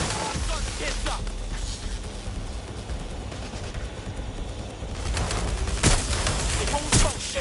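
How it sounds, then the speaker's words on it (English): Sustained gunfire in a PS5 video game, dense bursts of shots rattling throughout with louder cracks standing out near the end, loud and continuous. "It won't stop shooting."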